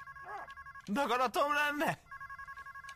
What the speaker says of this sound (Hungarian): Mi ez a csörgés?